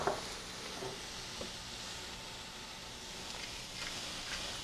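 Finely chopped onions and garlic sizzle in two tablespoons of butter in a pan, a soft, steady frying hiss with occasional light pops, fairly quiet and with no voices.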